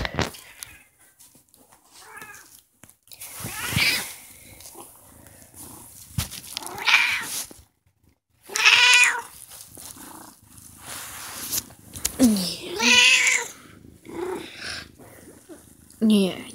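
A pet cat meows several times in short separate calls, close and fairly loud, with quiet pauses between them.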